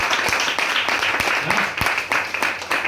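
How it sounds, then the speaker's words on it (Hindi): An audience claps loudly and continuously at an event in Amravati, Maharashtra, with a dense patter of many hands close by. "जोरदार ताली बजाओ"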